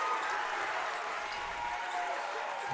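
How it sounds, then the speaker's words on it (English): Polite applause from fans at a boys' high school basketball district semifinal, steady broadband clapping throughout, heard from a distance in the gym with faint crowd murmur. "Very polite applause from their fans."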